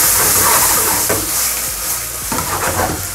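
Chicken liver cooks in cognac in a pan with a loud, steady hiss and sizzle, close up, with a few soft scrapes or stirs breaking through.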